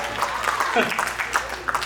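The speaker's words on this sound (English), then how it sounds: "Round of applause." Audience applause at a stand-up comedy show, a short burst of clapping for coworkers seated in the front row, with a voice speaking over it.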